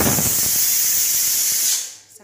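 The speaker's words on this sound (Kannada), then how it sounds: "ಇಲ್ಲಿ ಹೆಸರುಗಳು ಬೇಯ್ತಾ ಇದೆ, ಅದಕ್ಕೋಸ್ಕರ ಸ್ವಲ್ಪ ಜಾಸ್ತಿ ವಿಸಿಲ್ ಬರ್ತಾ ಇದೆ" A pressure cooker cooking green gram lets out a loud, sustained steam whistle that hisses on for nearly two seconds and then cuts off sharply, close to the microphone.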